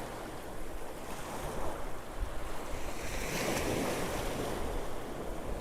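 Ocean waves crash and churn at St Mary's Island off Malpe beach in Udupi, Karnataka, a steady roaring surf with wind buffeting the microphone, continuous and close with no voices.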